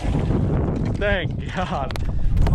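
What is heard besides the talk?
wind blowing on a lake while fishing from a boat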